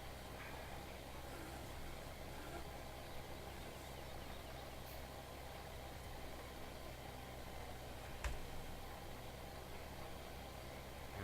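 Tractor engine driving in Farming Simulator during potato planting, a faint steady mid-pitched drone running continuously, distant and even, with one short knock partway through.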